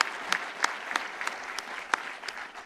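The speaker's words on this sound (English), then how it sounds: "Let's give our county executive another round of applause." Scattered, fairly quiet applause from an audience honoring a county executive, a modest round of clapping with a few sharper claps standing out, no talk over it.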